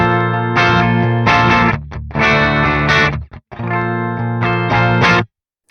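Distorted electric guitar chugging and ringing chords through an Archetype Gojira amp plugin with the bass knob at noon, heavy and loud, several riff phrases separated by brief gaps, ending abruptly, no voice.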